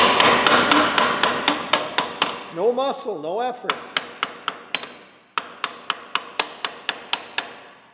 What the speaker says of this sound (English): use one of these body hammers to just gently persuade it flat again